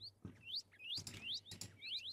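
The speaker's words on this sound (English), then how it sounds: "So this is a desert cardinal." Desert cardinal in the Minecraft Sonorama mod gives a run of bright, sharp rising chirps, several quick notes repeated in short bursts, close and clear over a quiet background.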